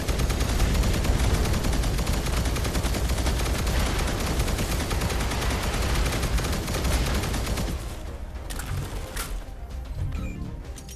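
Sustained, dense light machine gun fire rattles continuously in the VR shooter Guardians Frontline, loud and close for about eight seconds before thinning into scattered shots and faint bird-like chirps.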